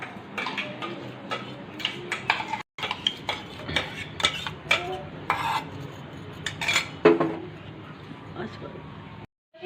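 Marinated chicken is mixed in a bowl with a utensil, making repeated clinks and scraping taps against the dish in an uneven rhythm, close by, while people talk throughout.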